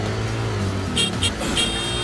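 Warthog vehicle engine in Halo 4, a steady low motor drone with a few brief higher tones from the game layered over it.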